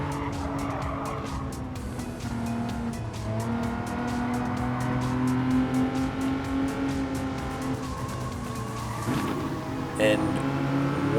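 A Hyundai Genesis Gr.4 race car in a racing video game at Dragon Trail Seaside drones steadily, its engine pitch climbing under load, with faint tire squeal and a voice talking over it.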